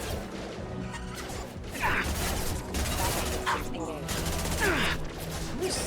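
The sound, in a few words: gunfire in video game Mass Effect 2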